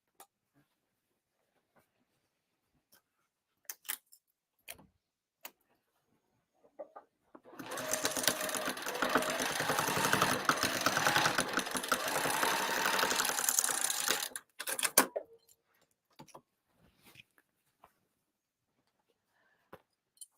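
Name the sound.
sewing machine stitching card slots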